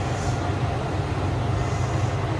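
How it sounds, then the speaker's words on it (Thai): An old single-car diesel train in Ibaraki, Japan, running on non-electrified track, gives a steady, loud low engine rumble with rail noise that holds evenly throughout. "เป็นรถไฟที่วิ่งโดยเอนจินนะคะ"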